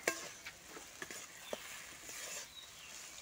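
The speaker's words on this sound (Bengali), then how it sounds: "খুব ভালো করে তেলের উপর কিন্তু সমস্ত মশলাগুলোর সঙ্গে আলু আর ফুলকপিটাকে কষিয়ে নিতে হবে" Potato and cauliflower sautéing with spices in hot oil, a soft sizzle under intermittent scraping and stirring taps of a spatula, quiet and close.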